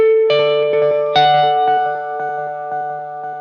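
Guitar run through an effects pedal with a long run-out tail: sustained tones with a few plucked attacks ring on and slowly fade, loud and close, with no talk.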